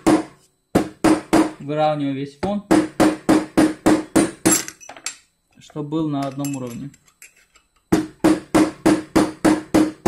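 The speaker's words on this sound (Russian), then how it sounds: "Деревянной тыльной частью молотка на алюминиевом вот таком штырьке" The wooden back of a hammer taps on an aluminium punch while shaping knife fittings, giving rapid, evenly spaced sharp metallic clicks in bursts, close and loud, with someone speaking in between.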